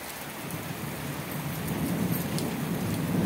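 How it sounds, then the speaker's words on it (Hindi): Heavy rain pours steadily, a dense broadband hiss that grows slightly louder toward the end, with no voices. "कितनी तेज बारिश हो रही है"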